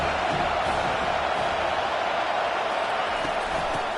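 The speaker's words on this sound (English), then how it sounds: "This crowd going to try to make life miserable for these guys." A football stadium crowd roars continuously and loudly in a broad, distant wash of noise, sustained without pause and with no clear voices above it.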